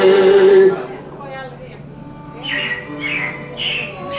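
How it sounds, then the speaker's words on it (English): Animatronic robins chirp and squawk as a show effect in the Carousel of Progress attraction, a few short bright calls following a brief sung note, fairly close and loud. "it looks like the Robins are getting ready to celebrate Valentine's Day today"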